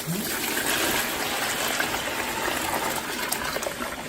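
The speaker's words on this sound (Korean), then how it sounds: "이제 여기다가 물을 부어줘야 돼요" Water is poured into a bowl while preparing gochujang, a steady loud gushing stream that continues evenly for the whole stretch.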